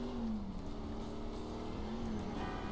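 A car engine in Grand Theft Auto hums and revs steadily at close range, with a continuous droning note that shifts pitch slightly as it drives, and no voices.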